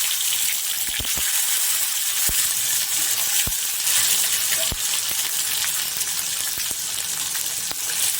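Whole spices (cardamom, cinnamon, cloves, bay leaf) and tomatoes sizzle loudly and steadily in hot oil in a pan, with a few sharp clicks and pops breaking through the continuous fry.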